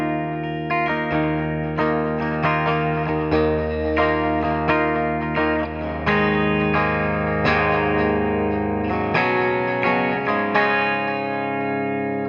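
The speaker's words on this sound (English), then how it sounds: "Here's a bridge pickup clean." A 1978 Ibanez Musician electric guitar on its bridge pickup with a clean tone plays sustained chords and melodic lines, steady and close, with a shimmering effects-laden sheen and no voices.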